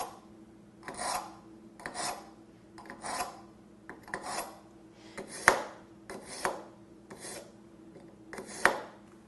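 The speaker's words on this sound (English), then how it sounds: "run this knife through anywhere between 5 to 10 times on the coarse" Dull kitchen knife pulled again and again through the coarse slot of a knife sharpener, about ten separate close raspy grinding strokes in an even rhythm with pauses between, some ending in a sharp metallic scrape, and no talk.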